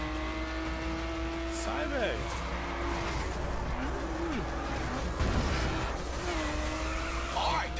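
A car drifting in The Crew racing game, engine droning steadily with repeated tire squeals and skids, while someone talks over the driving.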